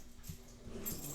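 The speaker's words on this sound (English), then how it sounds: "I apologize for my dogs." Playful dogs whimpering and yipping faintly in an indoor room, with soft, brief whines scattered through a low background hum.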